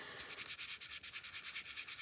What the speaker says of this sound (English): I think I want to sand it a little bit. Where's my little sanding disc?